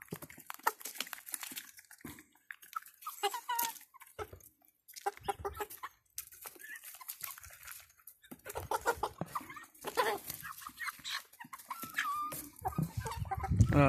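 Several chickens cluck and squawk close by in a busy, irregular chatter, with short pauses between bursts.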